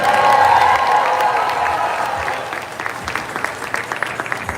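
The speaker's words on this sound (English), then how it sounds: "please give them a round of applause" An audience at a pageant anniversary celebration applauds the panel of judges, a dense burst of clapping that swells at first and then thins into scattered claps over several seconds.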